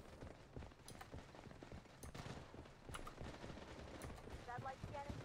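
Quiet, distant gunfire in a Blood Strike match, a thin rattle of repeated shots under faint game ambience.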